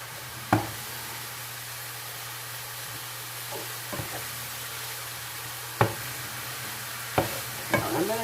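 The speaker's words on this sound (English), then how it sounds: "it's just hamburger frying with some onion powder and garlic powder so far" Ground beef with onion powder, garlic powder and pepper sizzles steadily in a frying pan, with a few sharp scrapes and knocks from a utensil stirring it.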